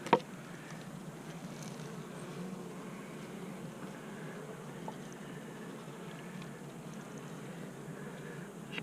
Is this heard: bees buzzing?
yes